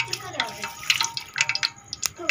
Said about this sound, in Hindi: चावलों का पानी बॉयल हो गया, मैं ये डालने लगी हूँ।